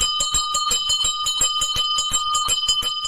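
A hand bell rung by a street ice cream seller, shaken in a fast continuous jingle of bright metallic strikes, loud and close, with no talking over it.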